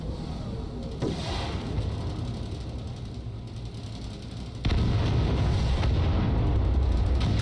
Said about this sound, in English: The explosions are really, really nice to see.